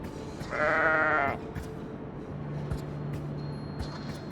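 A ewe bleats once, a loud, wavering call lasting under a second in the video game Argonus and the Gods of Stone, followed by soft ambient game sound and a low steady hum.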